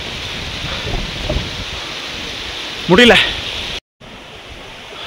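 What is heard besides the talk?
strong icy wind in the Himalayas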